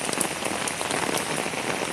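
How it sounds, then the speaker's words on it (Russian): A heavy August downpour drums on a street in Moscow's Teply Stan district, a loud, dense and continuous roar of rain splashing on pavement and surfaces nearby, with no voices. "Вот этот ужас уже творится в районе теплого стана, в продолжении ливня"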